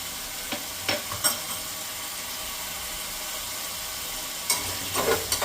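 Tomatoes with salt being stirred in a pan over low gas for a Marathi chili thecha, giving a steady soft sizzle broken by a few sharp scraping clicks of the spoon near the start and again near the end.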